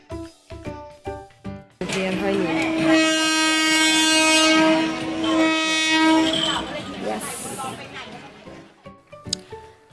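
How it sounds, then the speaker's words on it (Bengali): Clattering train wheels, then a long loud horn blast as the train rumbles past close by at Thailand's Maeklong Railway Market; people talk faintly around it. "শুনতে পেলে ট্রেনের হুইসেল? ওই আসছে ট্রেন।"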